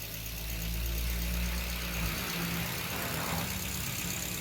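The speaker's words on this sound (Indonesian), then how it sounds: "Kondisi mesin hidup, posisi transmisi netral" A used car with an automatic transmission idles in neutral, giving a steady, fairly quiet low engine hum with a faint mechanical whir and no revving.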